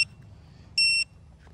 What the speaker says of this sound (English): It beeps, that's fine.